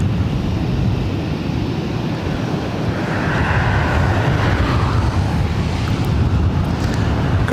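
Qantas flight 11 arriving at LAX from Sydney, Australia, a loud, low rumbling jet roar with heavy wind buffeting that stays strong for the whole stretch.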